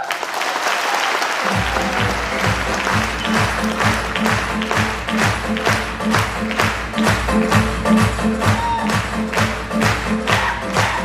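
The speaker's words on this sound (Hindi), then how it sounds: "एक बार जोरदार तालियां" An audience at a Safe Shop motivational business seminar breaks into loud, sustained applause. The clapping is dense and continuous, backed by a rhythmic clapped or drummed beat, and it keeps going to the end.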